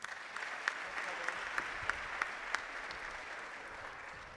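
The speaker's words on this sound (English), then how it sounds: "will you join me in a round of applause for Dr." A room full of people applauds a doctor returning to the podium at a school prize day, steady dense clapping heard from a distance, fairly soft, with a few sharper individual claps standing out.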